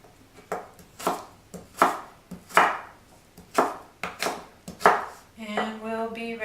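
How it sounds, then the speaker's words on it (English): A knife chops apples steadily on a cutting board, about a dozen crisp strikes in an uneven rhythm, followed by a brief hum at the end. "I'm just going to finish chopping the apples here."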